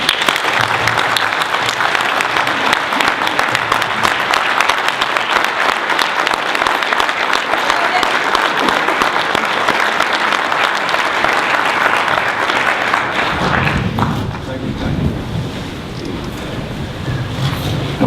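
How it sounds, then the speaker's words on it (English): Audience at a school meeting in Guilford gives a sustained round of applause, steady and loud for about fourteen seconds before tapering off into room noise. "would ask everybody to join us in a round of applause."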